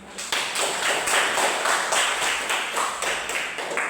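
A classroom of students claps hands together on a teacher's cue, a dense, steady patter of many overlapping claps held close and fairly loud for the whole stretch, with no talking over it.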